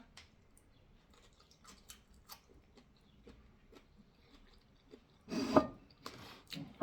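Quiet, close chewing of raw wild vegetables such as bitter phak nam greens, with faint sparse crunches and ticks that give way to a louder burst of wet chewing near the end.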